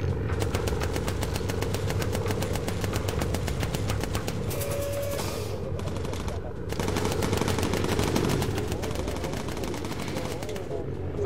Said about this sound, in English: It's all up to whoever's still shooting